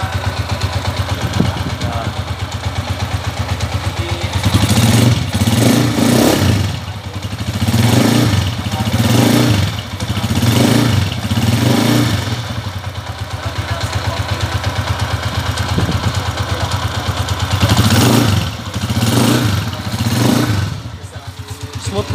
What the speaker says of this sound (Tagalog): Ayun na po yung andar ng motor niya